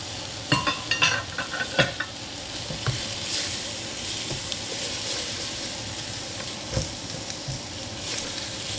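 Bok choy and snap peas hit a hot pan and sizzle in a steady stir fry hiss, with a burst of crackling and clatter at the start and occasional stirring knocks, close and continuous.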